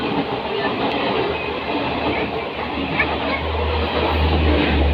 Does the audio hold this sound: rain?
no